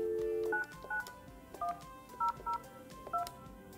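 A Yealink desk phone sends a quick series of DTMF dialing tones, several short evenly spaced beeps of differing pitch, clear and close after an opening longer tone.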